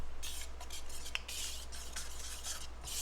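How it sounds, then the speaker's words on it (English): A utensil scrapes and swishes through dry ingredients for pumpkin bars in a bowl, steady rubbing strokes with a few light clinks, close and fairly quiet. "we'll just mix those dry ingredients together"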